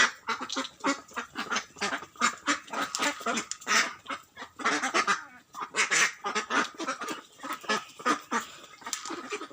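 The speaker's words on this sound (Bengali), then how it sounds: "হাঁসটা কীভাবে ভুট্টা খাইতেছে আপনারা দেখেন ভালোভাবে খুব মজা করে ভুট্টা খাইতেছে" A duck eating corn quacks loudly and continuously in a rapid, overlapping chatter, close by, with no pauses and no talking.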